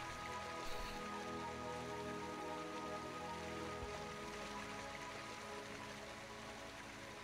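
Rain falls steadily in the video game Deadly Premonition, a faint, even hiss with a low background hum and no voices.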